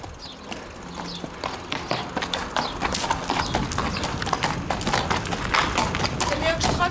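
A horse trotting on an outdoor ride, its hooves clip-clopping in a steady, rapid rhythm close by, with a person speaking over the hoofbeats.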